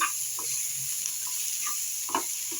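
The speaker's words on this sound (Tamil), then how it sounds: "இதை நம்ம கொஞ்சம் வதக்கணும்" Soft sizzling of onions sautéing in a pan runs steadily, with a few light scrapes of stirring and a faint clink near the end.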